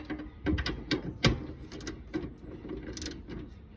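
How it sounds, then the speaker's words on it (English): A torque tool clicks and ratchets in quick irregular bursts while tightening a big wire connection on a Sol-Ark solar inverter installation, close and sharp with no talking. "use some kind of a torque tool when you're making these big connections"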